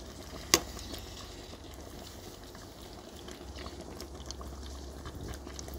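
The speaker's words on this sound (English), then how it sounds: "Just blanching the vegetables." Vegetables blanching in a pot of boiling water while cooking Filipino kare kare, giving a steady, close bubbling rumble throughout with one brief sharp knock near the start.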